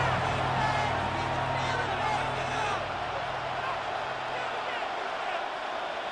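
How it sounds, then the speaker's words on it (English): A stadium crowd in the Madden NFL 26 video game roars steadily during a simulated 49ers vs. Seahawks NFC Championship game, a continuous dense rumble under a commentator's voice. "The crowd making their presence felt."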